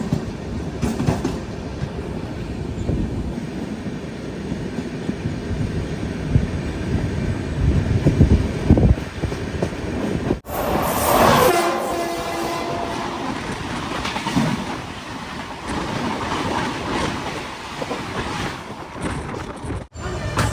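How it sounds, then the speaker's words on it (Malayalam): A mail train rolling into Perambur railway station, recorded from inside the sleeper coach: steady wheel rumble and clickety-clack, then a sharp shift midway as a horn sounds and the noise opens up, with no one speaking. "ഇപ്പോഴാണ് പെരമ്പൂർ റെയിൽവേ സ്റ്റേഷനിലേക്ക് ട്രെയിൻ എത്തിക്കൊണ്ടിരിക്കുന്നത്."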